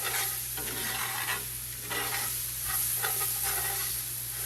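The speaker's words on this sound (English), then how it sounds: "Give it a good stir." Garlic stirred in a hot pan sizzles steadily, with scraping spoon strokes rising in bursts over a constant low hum; no one speaks.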